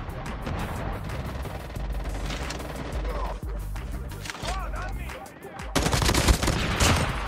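Automatic gunfire from Call of Duty Mobile rattles in sustained bursts, layered with game effects and distant shots, growing loudest in a final sharp volley near the end.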